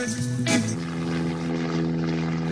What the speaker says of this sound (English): Yeah, maybe not with that plane.